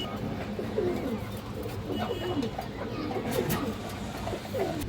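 High flyer pigeons coo close by in a repeated, overlapping series of soft, low rolling calls across the whole stretch, over a steady murmur of background noise with a few faint higher chirps.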